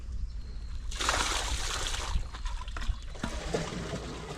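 Irrigation water on a farm gushes and trickles, swelling into a louder rushing spray after a second, then settling into uneven splashing and dribbling up close.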